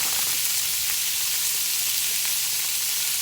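Green beans fry in hot bacon grease with a dense, steady sizzle and hiss that holds close and fairly loud throughout, with no talk.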